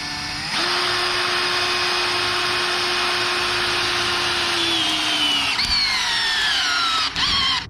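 A Ryobi cordless drill drives a lag bolt into wood with no pilot hole, a steady loud motor whine that runs several seconds, then bogs down and slows near the end with a brief final burst.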